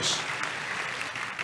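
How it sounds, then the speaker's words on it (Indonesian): Congregation applauding during a Sunday church service, a brief dense burst of clapping that fills the room, loud and continuous. "Kasih tepuk tangan yang meriah untuk Tuhan Yesus."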